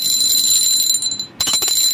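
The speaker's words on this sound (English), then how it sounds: "You can hear the glass in there." A small glass bell for an altar rings with a bright, sustained high tone that fades briefly, then is struck again for a fresh, shimmering ring, close and loud.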